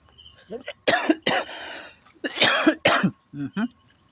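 A run of harsh, close coughs in uneven bursts, several in a row with short pauses between.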